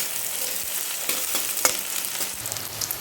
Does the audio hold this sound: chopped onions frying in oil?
yes